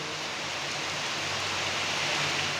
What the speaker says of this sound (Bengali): এতক্ষণ পর্যন্ত বৃষ্টি হচ্ছে দেখো প্রচণ্ড হারে বৃষ্টি হচ্ছে